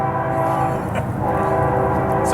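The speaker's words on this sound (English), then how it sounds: "I'll let the train go by." A train passing close by, a loud, continuous rumble with sustained horn-like tones over it, steady throughout.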